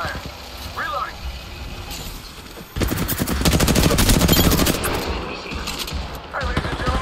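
Rapid automatic gunfire in the video game Apex Legends, a sustained loud burst of shots in the middle after quieter game sounds, with voices talking over it.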